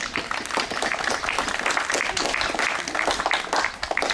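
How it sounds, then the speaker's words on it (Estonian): Applause at a school graduation ceremony, dense continuous clapping from an indoor crowd, loud and sustained across the whole stretch with a few voices mixed in. "Nii et aplaus selle eest, 110 juubel."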